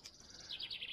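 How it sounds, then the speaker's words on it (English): Pigeon chicks chirp from a nest, giving a thin, high, quick run of faint repeated cheeps, close but quiet against a still background. "Pigeons nesting in there"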